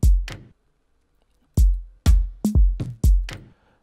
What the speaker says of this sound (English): it's like a drum loop that you find in the Afro House sample pack